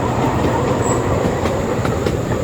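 Amusement park train rolling smoothly along its tracks over water, a steady rumble with faint rhythmic wheel clicks at regular intervals and a thin high whine.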